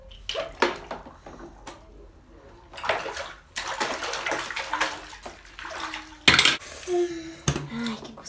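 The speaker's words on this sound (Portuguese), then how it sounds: "Vamos ligar o chuveiro para deixar água." A household shower runs in a bathroom, its water splashing in intermittent bursts. A child and an adult talk over it, with occasional clatter nearby.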